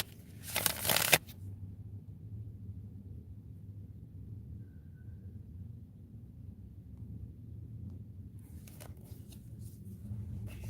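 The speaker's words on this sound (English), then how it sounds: "I'm going to give this a good shuffle" A short burst of tarot card shuffling near the start, then low steady room hum with faint rustling toward the end.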